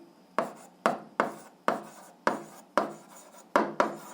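A pen scratches out the written answer to an eighth-grade algebra exercise, about eight short, crisp strokes spaced evenly and close up, with no talking.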